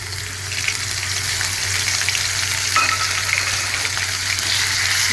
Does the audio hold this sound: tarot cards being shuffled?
no